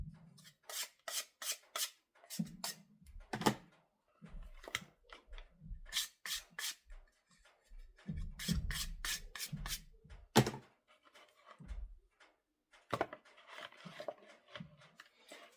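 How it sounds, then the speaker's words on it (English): Cardstock for car air fresheners is wiped down by hand in a series of short, close rubbing and scraping strokes in irregular bursts, with brief soft thumps and pauses between them, and no talking. "So I'm just going to wipe the excess from this."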